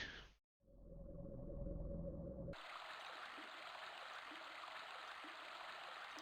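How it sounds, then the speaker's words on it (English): A flowing stream in Grandia HD Remaster rushes steadily as a broad, continuous water wash. It follows a short low droning tone and a brief silence. "I hear water."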